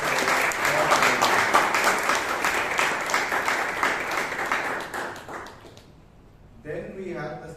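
An audience at a Bangalore Toastmasters meeting claps steadily for several seconds, the applause thinning out before a voice starts speaking.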